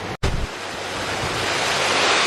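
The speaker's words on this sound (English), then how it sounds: "The waterfall." Steady rushing water from a waterfall at a defunct Pigeon Forge attraction, beside a pond with a dinosaur skeleton and a wrecked boat on rocks; a broad, continuous roar after a brief dropout, with no voices.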